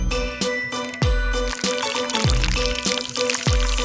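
Liquid candy poured into the bubbles of a silicone Pop-It mold, with repeated pouring bursts and bright tinkling, ringing tones in a steady loud rhythm, no talking.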